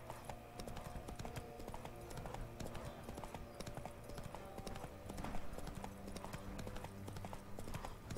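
Roach the horse gallops in The Witcher 3, a steady run of clip-clop hoofbeats carrying through the whole stretch under a bed of game music and ambience.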